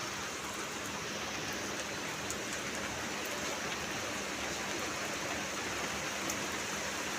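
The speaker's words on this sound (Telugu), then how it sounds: "వాన పడుతుంది." Rain falls steadily as an even, broad hiss with faint scattered drop ticks, unchanging throughout and with no voices.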